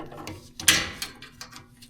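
A pick pries open a small plastic access door above the differential on a 2011-2018 Ram 1500, giving one sharp close snap followed by a few lighter plastic clicks and rattles.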